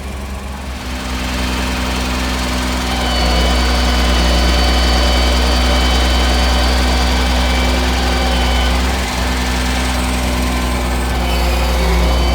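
A tractor engine runs steadily at a palm-planting job site in the Sierra Nevada, a loud continuous low drone with a strong deep hum that rises slightly in level after a few seconds and holds, with no talking.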